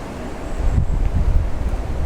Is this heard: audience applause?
no